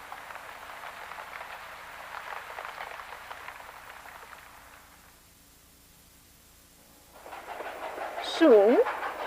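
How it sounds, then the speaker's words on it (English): Steady hiss of heavy rain for several seconds, fading to near silence, then the downpour returns with a rising whistle-like tone near the end. "it's raining hard."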